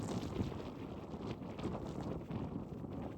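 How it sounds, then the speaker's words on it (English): Strong wind blows across Sahara desert dunes in Tunisia, buffeting the microphone in a continuous low, gusting rumble that swells and eases without pause. "It's very windy."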